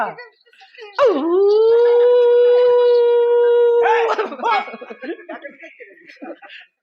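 A person's voice imitates a dog's howl: one long, steady, loud howl lasting about three seconds, followed by chatter.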